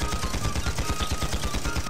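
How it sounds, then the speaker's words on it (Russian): Rapid, continuous automatic gunfire from the online fantasy battle game Panzar, loud and close with dense repeated shots across the whole stretch, no voices over it. "мне пофиг, я стреляю"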